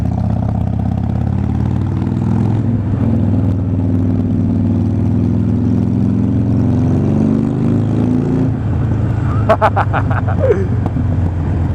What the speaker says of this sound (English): This is the best place to hear your exhaust.